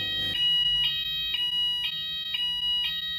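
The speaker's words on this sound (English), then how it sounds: "The fire alarm went off" A fire alarm sounds in a steady, piercing electronic tone that pulses in regular beeps about twice a second, loud and close indoors with no one talking.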